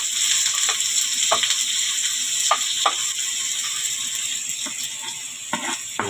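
Onion fries in a pan alongside garlic, a steady bright sizzle with occasional sharp clicks and scrapes of stirring, close and without any voices.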